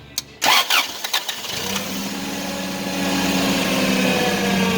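A Toyota engine cranks with a few sharp bursts, catches and settles into a steady idle that grows slightly louder near the end, heard close and without talk.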